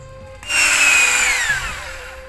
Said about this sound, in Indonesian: Dah ambil drill dulu buat lubang ni.